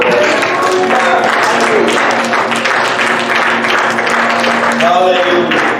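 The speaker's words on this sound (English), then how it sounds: "Come and clap those hands and praise the Lord." A church congregation claps hands in praise during a live worship service, steady clapping underneath loud singing and a preacher's voice, with music running throughout.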